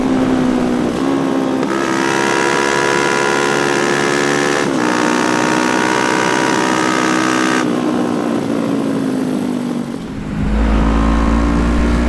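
A small Kawasaki ER5 motorcycle engine drones steadily at close range, its pitch shifting as the rider changes gears, with a brief dip before revving up again.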